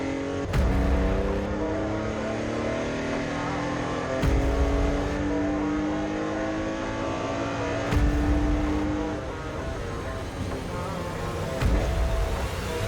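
Porsche 964 race cars circulate at Brands Hatch in the rain, engines droning steadily with a few passes and shifts in pitch, a sustained mid-distance roar with no voices.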